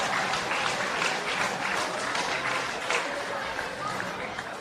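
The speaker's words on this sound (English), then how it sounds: "A round of applause for both teams that did exceptionally well." Spectators applauding both teams after a men's Premier League soccer match, steady distant clapping and crowd noise washing over the field for several seconds, fairly faint and continuous.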